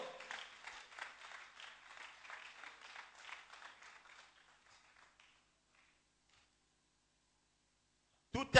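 Church congregation applauding and acclaiming the word of God after a scripture reading, steady broad clapping for about five seconds that fades out into silence, then a sudden loud burst at the very end.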